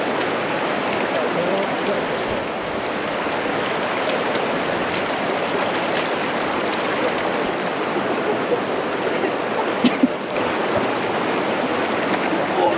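Water rushes over rocks where a riverside path ends, a loud steady broadband roar that stays constant throughout, close by and uninterrupted, with a few faint thumps near the end.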